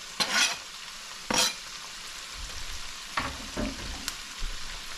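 Okra fries in a pan in a low, steady sizzle. A utensil stirs it in several sharp scraping strokes spaced a second or so apart.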